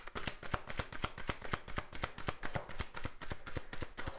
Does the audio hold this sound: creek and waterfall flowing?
no